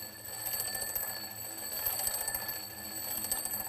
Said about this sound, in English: Listen to the sound as the alarm clock moves toward you.